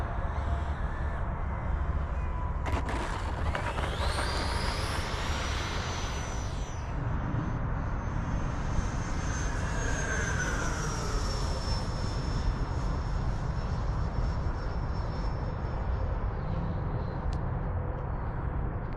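FMS Super Scorpion 90mm V2 electric ducted-fan RC jet flying outdoors in some wind, a steady loud whine of the fan with rising and falling pitch as it passes, with a crow cawing faintly in the background.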